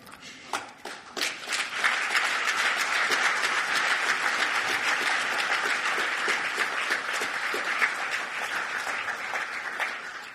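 An audience at the coronation of Slovenia's 21st Wine Queen breaks into applause, building from scattered claps into sustained, dense clapping that holds steady at moderate distance.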